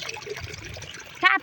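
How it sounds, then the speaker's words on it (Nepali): Water flowing along an outdoor stream, a steady soft rushing and trickling wash, with a brief voice cutting in right at the end. "हेर्नु न पानी बगेको"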